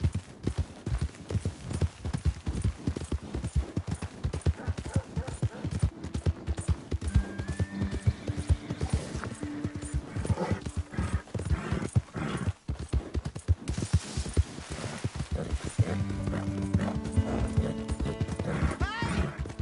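Horse hooves clip-clop in a steady rhythm through most of the stretch, with a horse neighing partway through, in the video game Red Dead Redemption 2.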